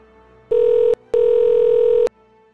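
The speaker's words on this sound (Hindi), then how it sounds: "बिश्मा बेटा फोन करके पूछो ना कितनी देर में आ रहा है नाश्ता।" Two loud, steady telephone ringback tones, one short and one longer, separated by a brief gap, heard through a phone line with no talking.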